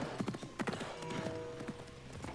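A horse gallops in Assassin's Creed Mirage, its hooves clip-clopping in a quick, steady rhythm up close, with a brief snort or whinny mixed in.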